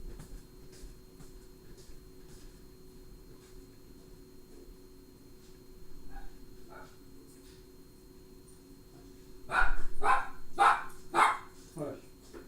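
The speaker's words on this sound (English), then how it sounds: "I'm going to let the doggies in so that they've been out for a while." Dogs bark in a quick cluster of sharp, loud barks near the end, after a quiet stretch with soft voices and a few faint yips.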